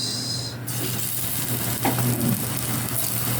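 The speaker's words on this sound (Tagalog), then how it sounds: "piprito ko na ang ating talong na may breading mix" Breaded eggplant frying in oil gives a loud, steady, close sizzle with a constant bright crackling hiss throughout.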